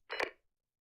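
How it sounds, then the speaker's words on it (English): A single short radio click burst from an airbase capture trigger in a flight simulator game, crisp and brief, followed by silence. "it was a simple radio click just to capture their attention"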